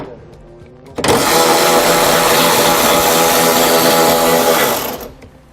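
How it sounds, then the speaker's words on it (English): A power ratchet or impact tool loosens a bolt with a 10mm socket on the driver's side inner fender of a 2013 Chevrolet. The loud, steady whirring buzz lasts about four seconds and then winds down. "We'll remove the bolt using a 10mm socket."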